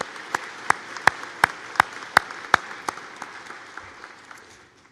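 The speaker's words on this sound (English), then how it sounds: "Please join us in a round of applause to recognize the important role of our MGA Foundation" Sparse applause at a fall university graduation ceremony: about a dozen sharp claps land at a slow, steady beat, then trail off into fainter scattered clapping.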